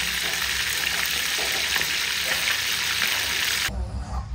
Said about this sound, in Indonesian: Ini udah kita goreng, sebentar lagi matang